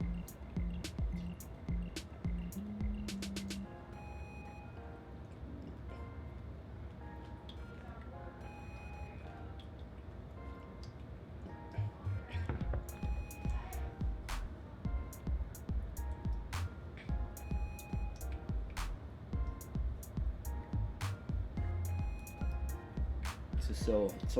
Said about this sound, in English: just listening to the coffee drip slowly into that pool